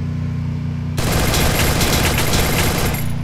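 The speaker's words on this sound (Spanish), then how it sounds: "creo que escucho más disparos por ahí" Gunfire in the Free Fire battle royale game bursts in after a second of quiet hum, a dense, loud stream of rapid automatic shots continuing to the end with no talk.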